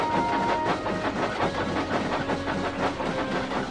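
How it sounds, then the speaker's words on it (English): A train with heavy freight trucks rolls along icy rails in the Trainz video game, a steady rhythmic clatter of wheels with a faint hiss, close and continuous. "The weight of the trucks and the iciness of the rails caused the train to pick up speed."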